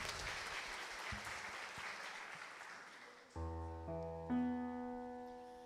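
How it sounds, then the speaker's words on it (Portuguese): A church congregation applauds vigorously, dense hand clapping filling the space, then sustained organ or keyboard chords rise in under the fading applause. "Aplaudir com força"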